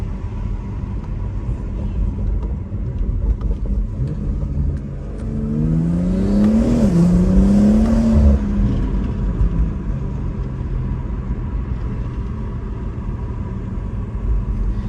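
A BMW B58 engine fitted with a Paradigm turbo inlet pulls through gears inside the car, a rumbling drone that climbs in revs, drops at a shift, then climbs again before settling.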